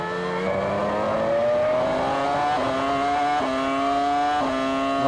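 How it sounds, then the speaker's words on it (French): The Ford engine of a Jordan Formula 1 car at the Malaysian Grand Prix qualifying screams loudly and alone, pitch climbing through several quick upshifts with brief dips between gears. "Entendez le moteur Ford de la Jordan."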